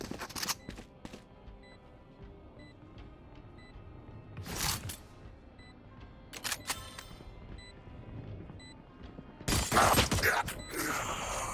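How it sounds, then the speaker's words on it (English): Weapon reloading in a tactical shooter video game after the spike is planted: a few short mechanical clicks and clacks, fairly close, with a sharper metallic burst of handling noise near the end. "Reloading."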